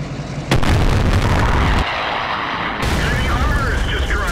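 Artillery fire in World of Tanks from the M40/M43 self-propelled gun: a sharp, loud boom near the start, then a sustained rumbling roar with a second shift partway through, layered under game audio.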